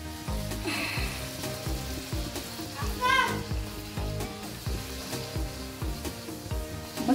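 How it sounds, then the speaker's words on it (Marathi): Puris sizzle steadily as they fry and puff in hot oil for a bhaji meal, a continuous close bubbling crackle lasting throughout, with faint kitchen clatter and a voice briefly talking over it. "किती अशी मस्त अशी पुरी वरती पोहते तेलावरती"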